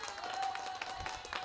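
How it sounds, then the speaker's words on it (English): Canned applause plays as a sound effect during a virtual happy hour featuring a magician: a thin, scattered patter of clapping at low volume, running steadily for a moment with a faint steady tone beneath it. "We're going to get a bigger applause on the sound effects next time"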